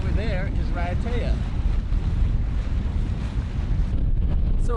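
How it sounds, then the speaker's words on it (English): Strong wind roars across the microphone aboard a sailboat in 20-knot winds off Raiatea and Taha'a in French Polynesia, a constant loud rumble with water rushing underneath and a voice briefly heard near the start and the end. "we're up here in 20 knots of wind"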